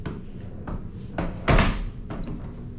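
A hotel room door at the Sahara in Las Vegas is worked open, with a few soft clicks and handle rattles building to a louder thump as it swings, close by with no talk.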